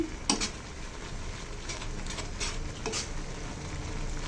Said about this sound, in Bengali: আর আমি এবার নুডলস রান্না করতেছি